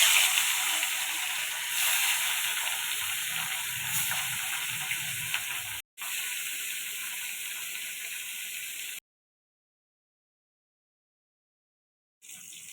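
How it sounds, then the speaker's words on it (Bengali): Rohu fish, rubbed with turmeric, frying in a pan, giving a steady close hissing sizzle for about nine seconds before cutting to silence, then briefly resuming at the end. "মাছটা ভেজে নিব"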